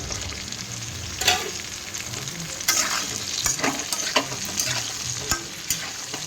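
Eggplant, taro and yardlong beans fry with turmeric in a pan for a hilsa curry, giving a steady close sizzle broken by sharp, irregular spatula scrapes and clicks.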